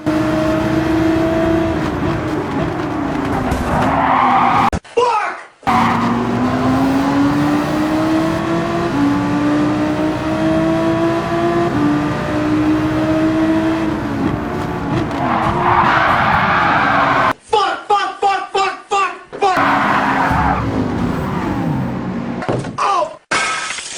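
Race cars pile up through a chicane at Watkins Glen in Gran Turismo 7, engines droning and revving loudly throughout, broken by sudden crunching impacts and a cluster of rapid crash clatters later on.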